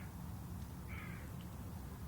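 A crow caws once, faint and somewhat distant, over a steady low wind-like hum in the video game Mimic.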